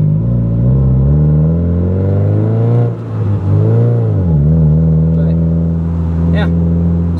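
Rebuilt Honda Del Sol engine heard from inside while driving, a loud close drone whose pitch climbs and falls through gear changes, with a brief dip mid-way before revving back up.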